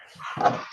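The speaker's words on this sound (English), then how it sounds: "Excuse the dog in the background" A dog barks in the background, one short muffled bark standing out at moderate loudness, with no talk over it.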